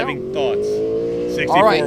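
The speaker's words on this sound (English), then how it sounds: "You hear that car running? You hear the RPM tacking" A car engine idles and revs with a rising, steady drone, loud and close, at an autocross event while people talk over it.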